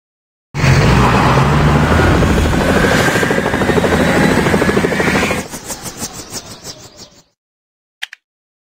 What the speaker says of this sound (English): Helicopter rescue.